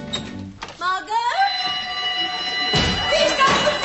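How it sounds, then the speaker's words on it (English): A burglar alarm fitted to a suburban house rings out as a sustained, loud electronic tone with steady harmonics, starting after a brief thump and continuing alone throughout. "It's a burglar alarm I've had fitted."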